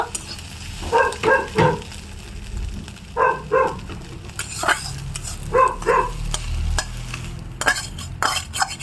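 Egg pieces frying in a wok for egg chili, a low sizzle under repeated spatula scrapes and metallic clinks coming in short bursts, close and fairly loud.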